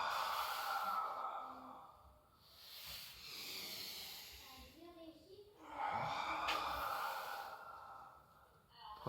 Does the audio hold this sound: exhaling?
yes